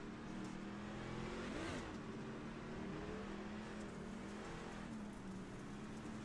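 A race truck engine idles with a steady rumble at Knoxville while the throttle is briefly blipped, the pitch rising and falling a few times amid distant crowd noise.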